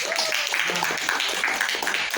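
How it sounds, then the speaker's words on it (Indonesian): A classroom group claps in dense, continuous applause for a couple of seconds, fairly close and steady, with faint voices mixed in. "tepuk tangan dulu"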